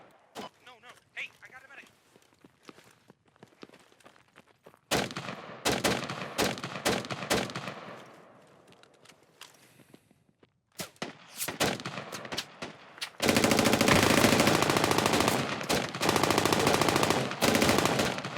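Gunfire in the combat game Squad: rapid machine-gun bursts and single shots at varying distances, from sparse cracks to dense sustained fire near the end, with voices talking over it.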